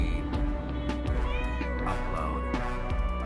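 A house cat meows in a drawn-out, wavering call midway through, set against steady indoor background noise and a few scattered clicks and knocks.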